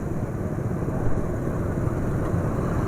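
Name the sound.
engine running rougher with Lubrigold 5W40 oil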